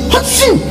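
A man imitates a sneeze with his voice during a religious talk, giving one quick loud breathy burst with a falling vocal sweep, close and alone.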